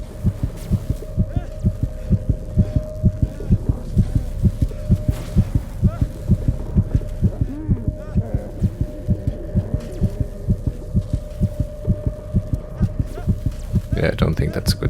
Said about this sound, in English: think our heartbeat intensifies